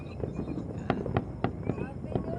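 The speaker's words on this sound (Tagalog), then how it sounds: "Ayan. Fireworks na." New Year fireworks pop and crackle in a rapid irregular series of sharp bangs, fairly close, with people talking and cheering underneath.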